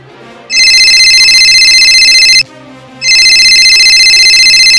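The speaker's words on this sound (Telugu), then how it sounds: "ఒకసారి ఫోన్ చేద్దాం" A telephone ringback tone sounds on an outgoing call, two loud, steady electronic rings separated by a short pause.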